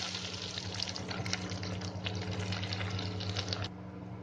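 Chopped onions go into hot ghee with whole spices in a kadai while cooking kadai paneer masala, giving a steady, dense frying crackle with scattered pops that runs for about four seconds, then drops slightly at the end.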